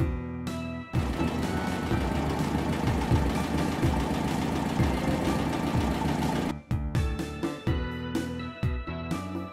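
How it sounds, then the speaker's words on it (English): A motorcycle rickshaw engine idles, a loud, rough, rapidly knocking putter lasting about six seconds, with a children's tune playing before and after it. "Motorcycle rickshaw."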